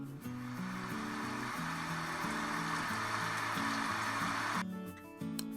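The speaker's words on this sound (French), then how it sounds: "Voici le bruit de la pluie." Rain sound played through a Google Home smart speaker: a steady, even hiss of falling rain with faint low tones underneath, running continuously before cutting off abruptly near the end.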